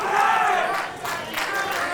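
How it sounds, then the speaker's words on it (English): Wrestling crowd at a pro wrestling show cheering and roaring after a ring introduction, a dense sustained wash of voices that dips briefly midway then swells again, loud and close. "it always feels amazing the way the crowd responds"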